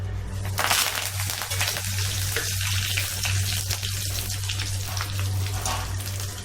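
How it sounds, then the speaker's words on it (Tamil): Curry leaves frying in oil for a corn flakes and rice flakes snack mixture give a continuous close crackling sizzle over a steady low hum, with a few brief stirring scrapes. No one speaks. "கருவேப்பிலையை போட்டுக்கிட்டேன்"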